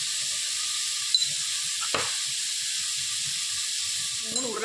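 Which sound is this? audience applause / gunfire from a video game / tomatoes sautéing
tomatoes sautéing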